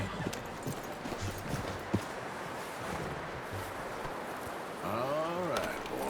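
Horse hooves clip-clop steadily on the ground in Red Dead Redemption 2, with a short snort near the end and faint game speech mixed underneath.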